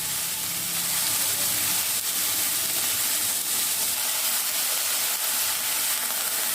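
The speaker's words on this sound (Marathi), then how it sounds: "ही तेलात आता आपल्याला छान परतवून घ्यायची आहे" Chopped spring onion greens sautéing in hot oil in a pan, a steady close sizzle and hiss running evenly throughout with no voices.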